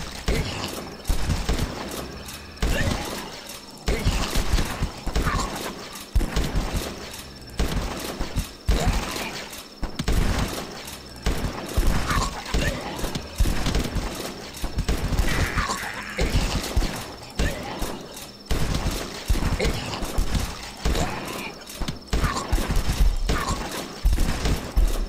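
Rifle gunfire in The Last Stand video game, rapid repeated sharp shots in bursts throughout, loud and close, with mechanical clacks between volleys and some talking mixed in.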